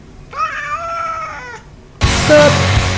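A cat gives a single clear, drawn-out meow close by, followed by a sudden loud burst of unrelated noise.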